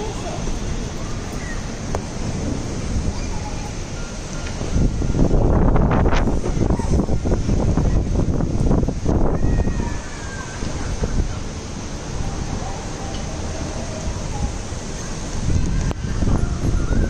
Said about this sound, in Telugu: చాలా గాలి వస్తుంది, చూపిస్తా ఉండండి.